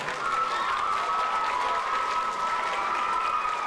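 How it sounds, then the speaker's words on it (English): Crowd applause at a school band program with fifth graders on stage, a steady wash of clapping and cheering with a sustained whistle-like tone running through it. "Please give all of those people a round of applause."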